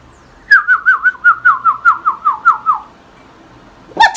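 A bird gives a loud, close run of about a dozen clear whistled notes in a quick even rhythm, then falls silent before a final short whistle at the end.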